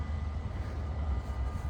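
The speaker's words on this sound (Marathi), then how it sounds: "ते समोरून एक ह्यांचा इथला लोकल ट्रॅम देखील जात आहे" A local tram passes beside a canal in a Dutch village, heard as a steady low rumble and hum that holds evenly throughout, fairly distant and soft, with no voices over it.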